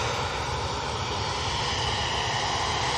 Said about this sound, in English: we have an A330 from Air Tanker coming out